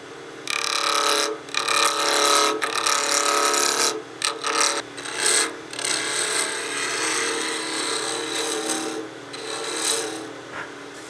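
A wood lathe spins at about 2,400 RPM while a wooden whistle blank is turned. It gives a loud, close, continuous scraping and rasping cut with uneven gaps where the tool lifts, and no speech.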